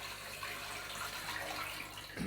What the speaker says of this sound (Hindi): अब इसमें मैं डाल दूँगी पानी।